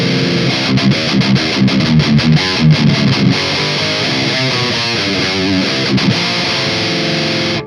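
A distorted electric guitar played through a Marshall Valvestate amp, tight and aggressive with thick lower mids, loud and continuous with rhythmic chugging chords and a few sustained notes, alone.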